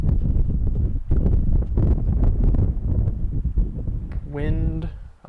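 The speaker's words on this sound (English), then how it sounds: "Wind. I'm not exactly sure which direction it's going" Wind gusting across an outdoor disc golf course at a tournament round in Tiligadas, Nicosia, a steady broadband rush buffeting the microphone throughout, with voices talking over it.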